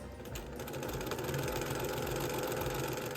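Sewing machine running steadily as quilt blocks are fed through with right sides together, a continuous close mechanical whir with rapid stitching rhythm and a slight hum, no talking.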